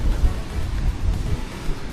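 Sea waves at Khao Lak beach in Phang Nga, a low rumbling surf washing in uneven surges with light wind noise, fairly close and steady.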